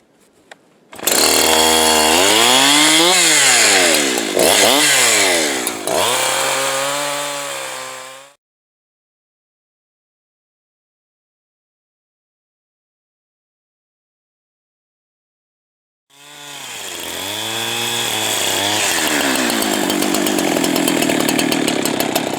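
A Farmertec Holzfforma G372 chainsaw with a finicky carburetor, run outdoors on a cold, windy day: loud revving bursts with rising and falling pitch, a long silent gap, then the saw roars back to life and holds a steady rev.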